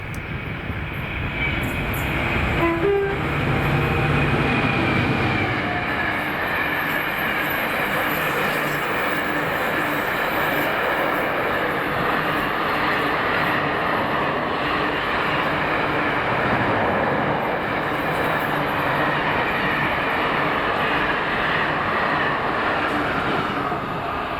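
A freight train hauled by Class 66 locomotives 66749 and 66305, top and tail, rumbles past at close range, with a loud, steady roar of wagons and engine drone held throughout.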